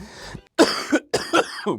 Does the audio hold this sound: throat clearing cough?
yes